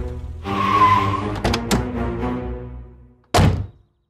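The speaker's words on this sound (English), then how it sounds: "Caroline hears a pickup engine roar" A pickup truck engine roars and revs up close, with a couple of heavy thunks partway through and a final loud burst before it cuts off.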